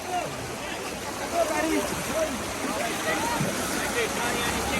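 Continuous loud roar of rushing flood water with wind noise, a person talking over it.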